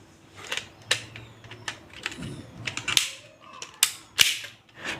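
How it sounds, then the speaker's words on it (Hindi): Switches are snapped into an 18-module electric board beside two 5-pin sockets, giving a close series of sharp plastic clicks and ratcheting clacks, irregular and crisp, with brief faint rustles between them and no talking. "और अब हम बीच में फिटिंग कर लेते हैं दोनों 5 पिन सॉकेट के लिए 2 स्विच।"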